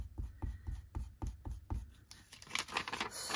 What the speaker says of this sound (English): Let me rub that little mark off there.